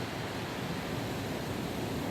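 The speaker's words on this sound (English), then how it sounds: "just that sound of the crashing waves" Ocean waves crash continuously on a rocky beach on a clear day, a steady broad wash of surf with no voices.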